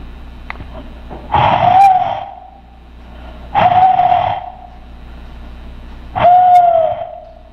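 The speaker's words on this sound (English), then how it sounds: "Oh, listen, you can hear the rain crows." Three drawn-out hooting calls from rain crows repeat at a steady interval, fairly close and clear, with quiet pauses between.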